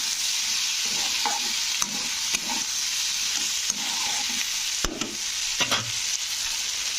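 Turmeric and chili powder frying in hot oil in a pan, a steady close sizzle broken by several clear scraping stirs and a few sharper knocks of the spoon, no one speaking.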